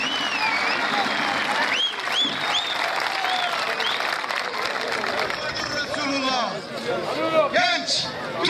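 Spectators at a village oil wrestling festival applaud vigorously, a dense steady wash of clapping with cheers and crowd babble mixed in, holding strong for the whole stretch.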